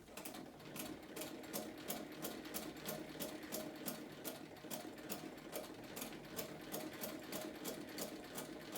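A vintage sewing machine stitches through several layers of denim, a fast steady mechanical clatter of needle strokes running continuously at close range, fairly quiet and with no talk.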